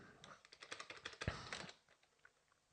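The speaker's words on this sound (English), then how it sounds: "let's type in scp" Quick keystrokes patter on a computer keyboard as a command is typed, a short close burst of clicks that trails off into a few lighter taps.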